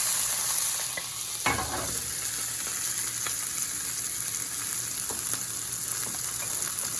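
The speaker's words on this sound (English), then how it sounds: "We're going to put it into the pan, and then we're going to cook it for like a minute together with the oil and the onions." Monkfish fries in a pan with oil and onions, giving a constant bright sizzle with a sharp flare as the pieces go in and occasional stirring clicks. The sound is close and continuous.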